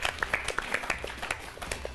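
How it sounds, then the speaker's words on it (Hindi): Audience members at a reality show competition clap for the finalists, a modest, fairly sparse round of hand claps with individual claps standing out, moderately quiet and steady. "तो जोरदार तालियां हमारे फाइनलिस्ट के लिए."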